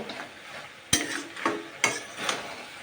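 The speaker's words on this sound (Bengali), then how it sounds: "বড়িগুলো দিয়ে আমি একটু কষাবো" Lentil dumplings (bori) are stir-fried in a pan, with soft frying hiss broken by several sharp clacks of a spatula against the pan.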